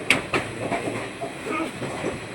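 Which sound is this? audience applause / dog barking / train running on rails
train running on rails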